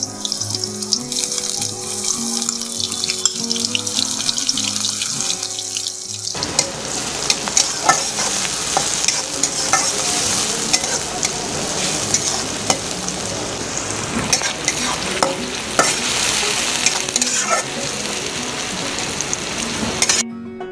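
Onions fry in a large cup of oil in a kadai, with a steady, close sizzle and occasional stirring scrapes. Music plays alone for the first few seconds before the frying starts, and no one speaks.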